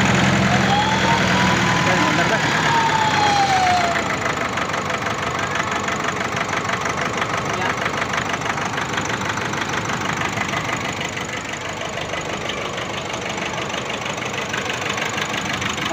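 A Nissan Navara DDTi diesel engine with low power and black smoke idles close by with a rough, steady knocking rattle, and people talk over it.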